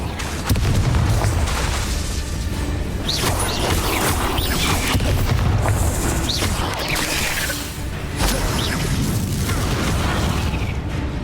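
The Bombarda blast spell in Hogwarts Legacy sets off a string of loud, booming explosions with crashing debris, filling the stretch with a dense, continuous rumble.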